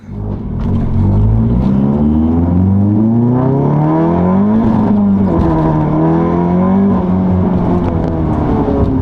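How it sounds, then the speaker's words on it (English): A modified 2016 VW Golf 7 GTI Clubsport S pulls hard on a highway, heard from inside as a loud engine climbs through the gears with shift breaks between long rising pulls. "we just had a pull on the highway in this really special 2016 Golf 7 GTI Clubsport S"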